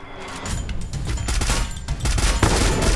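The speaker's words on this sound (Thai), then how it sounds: "อุ้ยยิงกันด้วยโหอย่างเดือด" Rapid video-game gunfire in dense, overlapping bursts fills the whole stretch, loud and continuous with booming low end and no pauses; the shooting takes place in a Songkran water-festival themed game with street riders.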